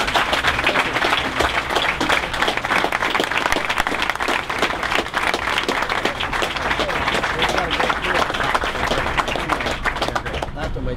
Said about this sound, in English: So one last round of applause for a genuine American hero.